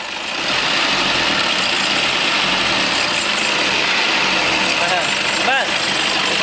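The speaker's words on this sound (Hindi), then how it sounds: "ये जो आवाज़ है ये ऑल्टरनेटर बेल्ट का आवाज़ है।" Worn alternator V-belt on a Toyota Innova engine, squealing as the engine is revved: a loud, steady engine drone with a chirping squeal and a few sharp rising whistles near the end, while people talk over it.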